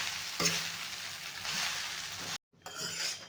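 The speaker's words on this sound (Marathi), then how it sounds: "हे पोहे छान मस्त असे परतून घ्यायचे आहेत" Poha with fried peanuts and coriander being sautéed in a pan, a soft sizzle with scraping stirs and a brief pause before the frying sound resumes, fairly quiet and without talk.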